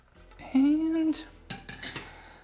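A spoon stirs drained rigatoni into a pot of green curry mushroom bolognese, giving a short burst of close metallic scrapes and clinks. A brief tonal squeak or voice sound comes just before.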